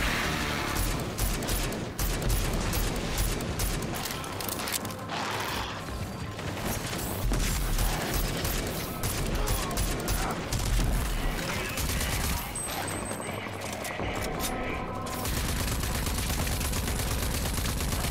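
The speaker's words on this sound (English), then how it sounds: "the shooting feels really satisfying" Heavy, sustained gunfire in the video game Rage 2 on Xbox, dense rapid bursts and crashes running almost without pause, loud and close, with brief breaks between volleys.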